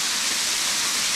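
A partly frozen waterfall at Linn Run State Park in winter pours in a steady, loud, unbroken rushing hiss.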